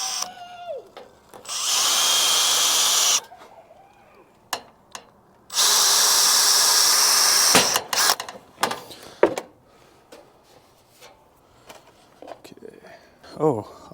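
A power drill drives short self-tapping screws into a classic car's radiator bug screen, with two long loud bursts of drilling and several shorter clicks, knocks and handling noises between them.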